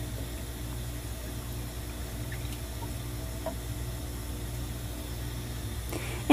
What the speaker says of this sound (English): we are going to inundate the cell with water